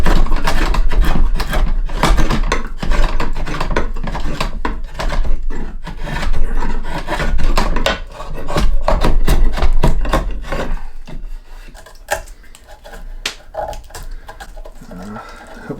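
Hand tool carving a wooden bushcraft axe handle, shaving away axe marks: dense, rapid scraping and rasping strokes in an uneven rhythm, close and loud, easing off and thinning out near the end.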